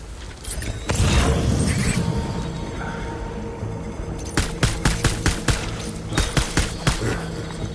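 Gunfire in the video game Death Stranding: a heavy blast and rumbling boom, then rapid bursts of loud, close automatic shots in quick clusters over a low mechanical drone.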